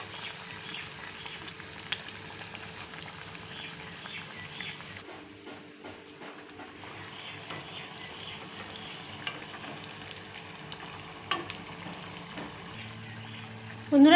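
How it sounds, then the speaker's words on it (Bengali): Cauliflower fritters deep-frying in oil over a medium gas flame: a soft, steady sizzle with faint bubbling, quiet throughout, with a few clinks and a louder stir near the end. "বড়াগুলো ভাজার সময়ে গ্যাসের ফ্লেমটাকে কিন্তু অবশ্যই মিডিয়ামে রেখে বড়াগুলোকে ভাজবে"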